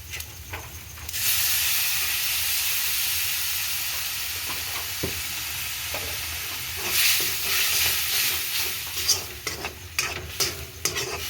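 Tamarind extract poured into a hot sizzling pan during home cooking, a sudden loud hiss and steady frying sizzle that persists, with stirring scrapes and clinks toward the end.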